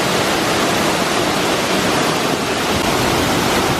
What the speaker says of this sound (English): It's a pretty neat feature that you can see the waterfall gets a little more intense.